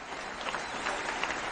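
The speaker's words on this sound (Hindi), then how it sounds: "जबरदस्त ताली होना चाहिए" Audience applause at a Hindi-language event honouring a former labourer couple's success, a dense steady wash of many hands clapping filling the whole moment, fairly close and even in loudness.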